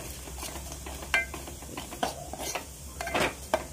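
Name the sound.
frying and stirring spice masala for egg curry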